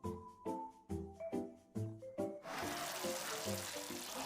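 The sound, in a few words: water poured into the pan of cooking curry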